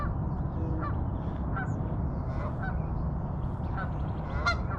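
A goose at Barr Lake, Colorado, gives several separate honks over a constant low rumble of wind or background noise, loud and fairly close.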